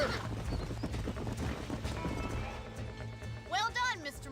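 Hooves clatter in a quick rhythm in the Red Dead Redemption video game, then ease off before a short neigh near the end, with people talking throughout.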